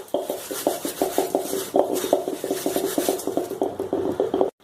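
Oil-and-masala-coated puffed rice rubbed by hand in a metal bowl, giving dense, rhythmic rustling crunches and light clinks that repeat steadily and close up with no talking.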